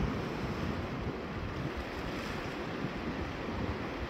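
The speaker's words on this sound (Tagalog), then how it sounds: "Dito galing ang alon doon sa laot." Ocean waves at Shellharbour beach in New South Wales, Australia, roll and break in a steady, loud wash of surf with heavy wind rumble on the microphone throughout, no voices.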